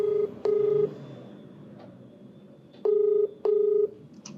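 A phone line placing a call: a few short dialing beeps, then two long evenly spaced ringback tones, clear and alone against quiet.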